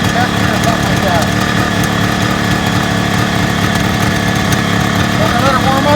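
A 1972 Kawasaki H2 750 two-stroke triple idles steadily while warming up, a loud, close, continuous engine rumble with a busy, rattly texture, and someone talks over it.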